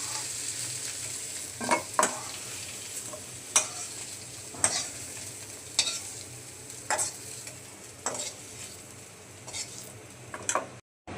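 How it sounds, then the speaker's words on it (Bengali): Potatoes fry in oil in a pan, a soft continuous sizzle punctuated by sharp clinks and scrapes of a utensil stirring every second or two. "আলুগুলো লাল করে ভেজে নিচ্ছি"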